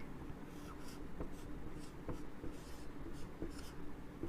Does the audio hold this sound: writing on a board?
yes